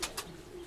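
Young striped pigeons (squabs) in a nest give a brief coo with a couple of quick sharper calls at the start, close and fairly quiet, alone without voices.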